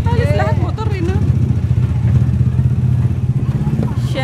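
Many motorcycles idle and rev along a busy market street, their engines a steady low rumble with some clatter, with people talking over the traffic noise.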